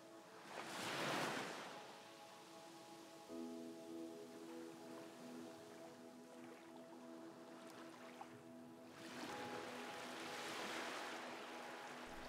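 Ocean waves rolling onto the shore, two broad surges of soft hissing surf several seconds apart, faint and steady, with a low background hum and no voices.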